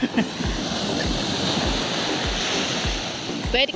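Waves wash onto a beach on fairly calm, gentle surf, with a steady broadband wash and a soft rhythmic low thump from each small wave, heard close by without talk.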